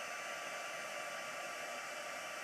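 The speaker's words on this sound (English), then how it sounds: "When that heat gun is heated up" Heat gun melting embossing powder for stamped craft work, a steady loud blowing hiss that runs close and unbroken throughout, with no voices.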